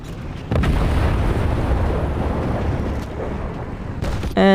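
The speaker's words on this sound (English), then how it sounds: "And the Panzer IV got blown up." A Panzer IV tank blown up in War Thunder Mobile, a loud sustained blast with heavy low rumble for several seconds, followed by a second sharper burst near the end.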